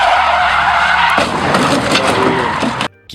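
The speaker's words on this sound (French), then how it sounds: "Une voiture roulant à vive allure entre dans une zone et heurte un obstacle en dérapant." A supercar speeding along skids with loud tire noise and engine roar, then hits an obstacle in a sharp burst before sudden quiet.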